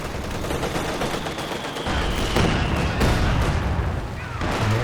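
Artillery barrage in Company of Heroes 2, a dense, continuous rumble of overlapping blasts and gunfire with sharper impacts every second or so, under a faint voice.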